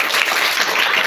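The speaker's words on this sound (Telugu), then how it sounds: "అందరికీ కరతాళ ధ్వనులతో ఒకసారి మళ్ళీ చప్పట్లతో ఆహ్వానిస్తాం" Dense, loud applause from an audience welcoming guests onto a stage at a school teacher's felicitation event, a continuous close wash of many clapping hands with no voices.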